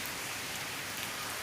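Rain falls outside as an even, steady hiss of drops spread across the whole moment, with no other sounds standing out.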